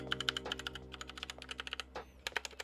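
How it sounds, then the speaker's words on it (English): Rapid, uneven keystrokes clack up close on a black and gray Magegee Star61 60% mechanical keyboard with red switches, with a short pause partway through the typing. "This is the keyboard."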